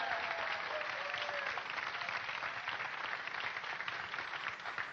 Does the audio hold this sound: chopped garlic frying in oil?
no